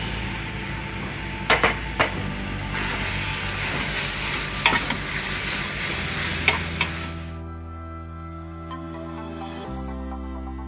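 Ground mutton sizzles loudly in a hot pan for Bolognese, with a steady frying hiss and several sharp clacks of a spoon stirring, before the sizzle drops away to a quieter hum.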